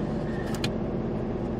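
A diesel truck engine rumbles steadily as heard from inside the cab, a low, constant drone with a brief faint click partway through.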